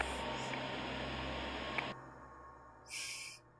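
Steady broadband static hiss from a transmission ending in the Root Double video game fills the first two seconds, then drops away, with a brief brighter burst of hiss near the end.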